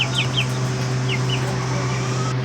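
Kathi kalu chickens give a few short, faint clucks and chirps over a loud, steady hum and background noise.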